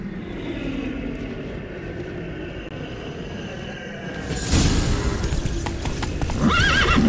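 Roach, Geralt's horse in The Witcher 3, gallops with rapid clip-clop hoofbeats. A loud whinny and a rush of motion break in around four and a half seconds.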